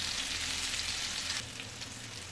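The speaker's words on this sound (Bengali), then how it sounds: "দেখো বন্ধুরা, ভালো করে ভাজা হয়ে যাচ্ছে" Bottle gourd fries in a hot pan with a steady, dense sizzle that holds loud and even, then drops a little softer partway through; no voices.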